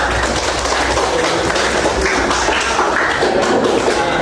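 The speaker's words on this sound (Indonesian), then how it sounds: "Ya, tepuk tangan buat kelompok 2" Students in a classroom give a group steady applause: a continuous, even wash of many hands clapping at once, fairly loud and close, with no break in the sound.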